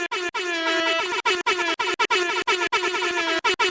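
Loud air horn blasting in rapid bursts, repeated honks close and harsh with short gaps between them.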